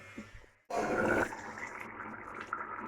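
Water is poured suddenly into a simmering potato curry, a close gushing splash for about half a second that settles into a softer, bubbling wash in the pot.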